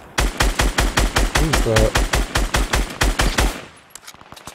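A drum gun fires in Fortnite in one long, rapid, evenly spaced burst of loud, close shots that stops abruptly and trails into fainter distant pops, with a voice speaking briefly during the shooting.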